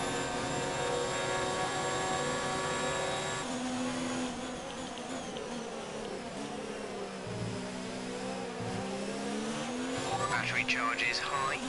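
Engine of a Ferrari race car in a racing video game career mode, a loud continuous droning whine with pitch rising and falling through gear changes, steady throughout with a brief surge near the end.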